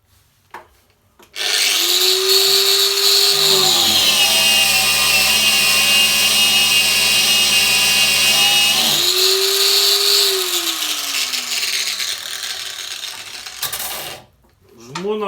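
A Metabo W18LBL9-125 cordless angle grinder spins up and runs at its third speed setting, a loud steady high-pitched whine holding for several seconds before winding down, with no talk.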